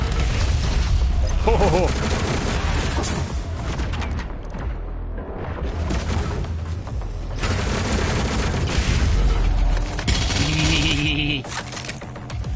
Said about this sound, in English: That was a big kablooey. Big booms make me happy.